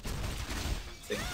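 Meteor and missile ball skills go off in Lineage 2 Revolution, a dense, loud barrage of overlapping blasts and rumbling impacts that runs continuously through the short moment.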